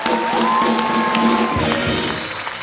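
A studio audience at The Kapil Sharma Show claps and cheers loudly and steadily, with a sustained musical tone playing over the crowd noise.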